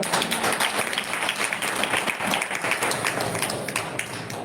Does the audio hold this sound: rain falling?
no